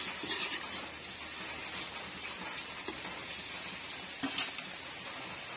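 Mango pieces cooking in a pan with masala for mango rice make a soft, steady sizzle, with faint scrapes and stirring taps now and then. No one speaks.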